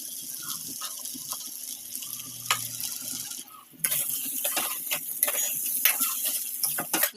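Broken wheat (daliya) being stirred with salt in a cooking pot, giving soft scraping and wet shuffling strokes that grow busier and louder partway through, close by, with no talking.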